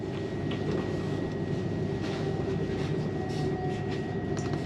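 A Class 91 electric locomotive hauling a train on the East Coast Main Line at Welwyn Garden City, a steady, loud rumble with a faint whine, continuous throughout with no talk.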